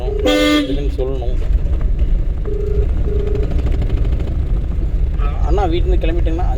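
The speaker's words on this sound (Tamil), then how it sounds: "நம்ம ரோடு ஹாரன் அடிக்கணும், இதுன்னு சொல்லணும்." During a driving lesson in a car on the road, a horn gives a short toot and then two brief beeps. The car's engine and road noise run underneath while people talk throughout.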